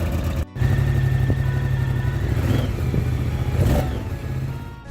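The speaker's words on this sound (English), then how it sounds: "Exhaust sound of Moto Guzzi Stelvio." A Moto Guzzi Stelvio adventure motorcycle's exhaust produces a steady mid-pitched engine drone after a brief cut near the start, swelling slightly with revs before easing off toward the end.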